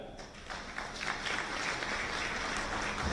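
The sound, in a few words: applause for award recipients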